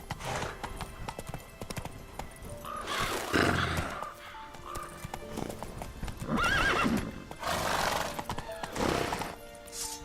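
In The Witcher 3, the horse Roach snorts and whinnies several times amid rhythmic hoofbeats clip-clopping at a gallop, loud and close, with no talking.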